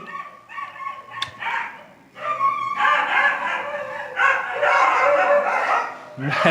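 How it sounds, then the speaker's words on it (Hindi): Several dogs fight, with repeated sharp barks, yips and snarling yelps in close, overlapping bursts that swell loudest toward the end. "अभी यहाँ पर कुत्तों का महासंग्राम हो गया था"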